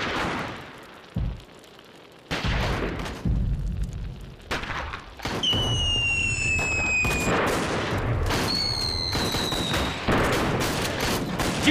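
Rifle and machine-gun fire in a war film battle scene, with repeated bursts and booms, brief gaps between volleys, and whistling streaks of flares or ricochets overhead amid the ongoing shooting.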